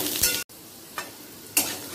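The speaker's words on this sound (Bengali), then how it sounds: "আলুগুলোকে হালকা লাল করে ভেজে নেব।" Cut potatoes fry in hot oil with panch phoron and bay leaves, giving a soft steady sizzle broken by three sharp spatula scrapes as they are stirred in the pan.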